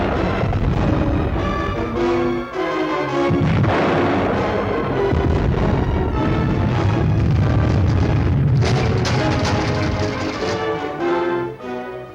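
Torpedo explosions in a World War II submarine war film, a continuous loud roar of deep booms and rumbling blasts layered with dramatic orchestral music for the whole stretch.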